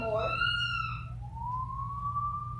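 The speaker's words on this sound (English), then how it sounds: "I think I hear the sirens" A police siren wails in rising and falling sweeps, heard from a distance beneath a low background hum.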